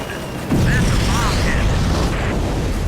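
Bombs from an aircraft in the Air Conflicts Pacific Carriers combat game burst into a loud, rumbling boom that swells suddenly and holds as a dense roar, with faint whistling tones drifting above it.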